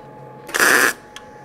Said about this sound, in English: I'm going to do another spot weld or stitch weld